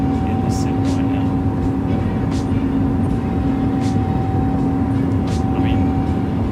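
Steady airliner engine drone in Microsoft Flight Simulator 2020, a continuous loud hum with sustained tonal whine running unbroken throughout, with faint brief clicks and hisses on top.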